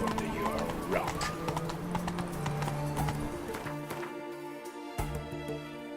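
Horse hooves clip-clop steadily in The Witcher 3, a rhythmic trot close by, mixed with a whinny, game music and character voices.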